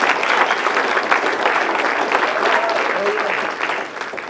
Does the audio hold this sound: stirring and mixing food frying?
no